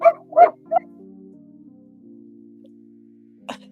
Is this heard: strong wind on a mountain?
no